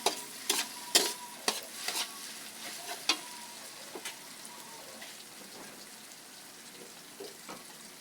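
Ingredients for kaldereta sauté in a pan, with a soft steady sizzle and sharp utensil scrapes and clinks against the pan, frequent at first and then thinning out.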